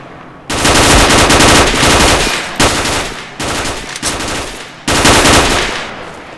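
Loud automatic gunfire in the game STALKER: Oblivion Lost: several long, dense bursts of rapid shots, split by brief pauses, close and dominant with no talking.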